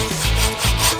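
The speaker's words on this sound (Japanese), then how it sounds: "ほら、女性でも切れるでしょ、このノコギリ。" A handsaw rasps through a thick log in two firm back-and-forth strokes, close and loud, with no talking, at a beach campsite.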